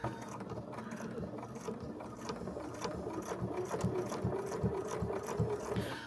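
Sewing machine slowly stitching binding around the edge of a flying geese fabric basket, a faint, steady mechanical whir with soft rhythmic needle taps growing slightly louder, no talking.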